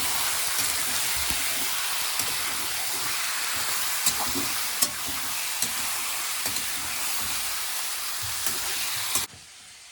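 Chicken meat sizzling in hot oil for a home-cooked curry, a steady loud broadband frying hiss with occasional crackles and stirring clicks, cutting off abruptly near the end.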